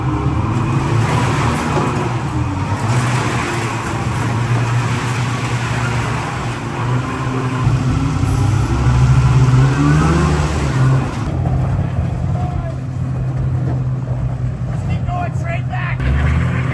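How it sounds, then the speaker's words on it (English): Engines of a homemade twin-engine ice drifting sled idle and rumble loudly alongside a running car, a continuous droning motor noise with people talking over it. "All right, car is running, sled is running."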